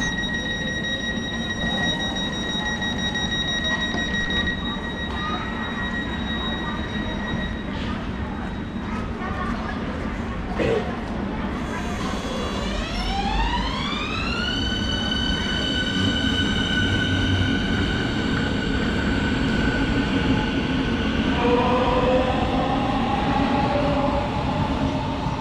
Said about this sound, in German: abfahrender Zug auf Gleis 2